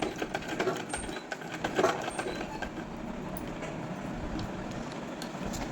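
A sewing machine stitching a gota patti design onto a salwar hem runs with a steady mechanical whir and fast clatter, a bit busier at the start and then an even hum with no talking.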